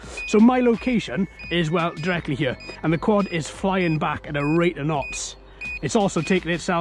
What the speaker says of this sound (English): Sorry about the beeping, folks. There's not much I can do about that.